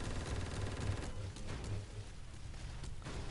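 Gunfire and explosions in the online space shooter BlackProphecy, a dense, continuous barrage of rapid blasts and booms at steady loudness, fading slightly toward the end, with no talk over it.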